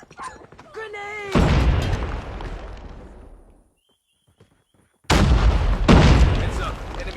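In Call of Duty Mobile, a grenade goes off with a loud booming blast and long rumbling decay, followed by another heavy explosion, with a shouted voice just before the first blast.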